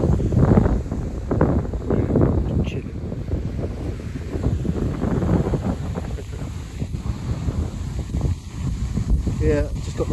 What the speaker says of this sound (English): Hopefully you can hear me over this wind.